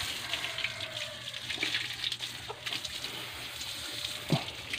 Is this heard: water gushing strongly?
yes